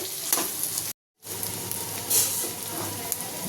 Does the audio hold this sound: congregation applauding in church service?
no